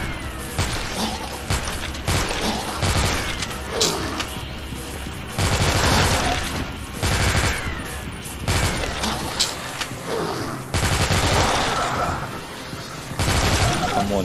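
Dense gunfire from the video game Dead Trigger, with loud rapid bursts and single shots tumbling over one another in near-continuous volleys for the whole stretch.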